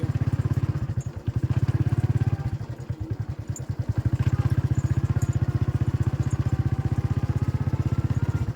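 A saleng, a motorcycle tricycle with a sidecar, runs close by with a steady throbbing engine that pulses rapidly and evenly, with occasional rattles, for the whole stretch.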